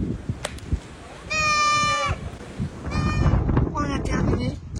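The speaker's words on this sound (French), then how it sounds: "Ah ouais, il y a des moutons." Sheep in a flock on a cold, windy hillside near Ifrane, Morocco, give two clear bleats, the second followed by fainter bleats, with wind rumble and some background noise.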